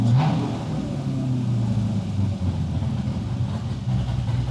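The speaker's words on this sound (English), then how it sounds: "So we revved it up, and it'll kick it out of closed loop." An LS V8 engine in a widebody Porsche 911 roars at high revs, a loud continuous rumble close by that stays strong and steady throughout.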